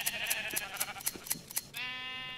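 Sheep bleating in Minecraft with the Botania mod, a rapid series of overlapping bleats from a flock, close and clear, ending with one longer drawn-out bleat.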